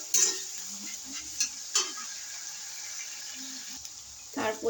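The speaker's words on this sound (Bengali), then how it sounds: "নাড়াচাড়া করে নেব।" Egg curry with turmeric powder stirred in a pan: a low, steady sizzle underneath a few scattered spoon scrapes and knocks against the pan, close by and moderately loud.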